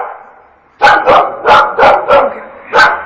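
A dog barks in a quick series of six loud, close, sharp barks with short gaps, following a brief quiet stretch of low background noise, outdoors on a street at night.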